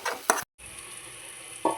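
Masala fried in oil with ground roasted peanuts and sesame, a soft steady sizzle with a couple of brief stirring scrapes near the start and end and a short gap of silence.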